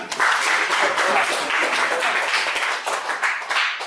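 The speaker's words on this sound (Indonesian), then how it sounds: "Ya, tepuk tangan." A group of students in a classroom applauds as a lesson begins, a dense, continuous clapping that lasts about four seconds with a few voices mixed in.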